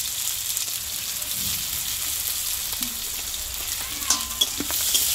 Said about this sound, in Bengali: এই পেঁয়াজটা আমি একটু ভালোভাবে ভেজে নেব